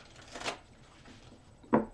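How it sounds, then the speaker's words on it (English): Deck of playing cards shuffled by hand, two brief riffling bursts separated by a quiet pause, close and fairly faint. "One more shuffle."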